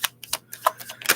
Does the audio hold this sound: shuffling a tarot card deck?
yes